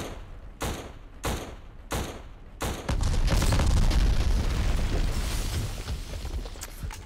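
Sharp gunshots in the shooter game Black crack four times in a steady rhythm, then a big explosion erupts into a long, loud roaring rumble that slowly fades with crackling debris.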